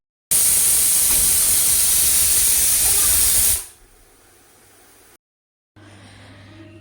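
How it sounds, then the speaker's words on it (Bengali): A large pressure cooker vents steam in a home kitchen, giving a loud, continuous hiss for about three seconds that then cuts off abruptly, leaving quiet room tone. "প্রেশার কুকারটা প্রচুর বড়, আমি তো ভয়ে ভয়ে বসিয়েছি।"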